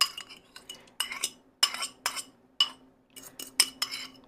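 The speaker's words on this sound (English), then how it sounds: "I'll stir it all together and show you how creamy and kind of looser this gets." A spoon stirs a thick yogurt mixture for ham and potato chowder, making quiet repeated clinks and scrapes against the bowl in short, irregular bursts, with no talking.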